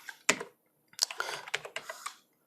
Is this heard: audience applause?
no